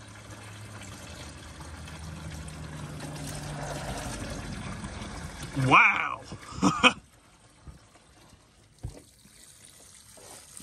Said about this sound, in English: That's a lot of water. No oil even. Let's just dump that out.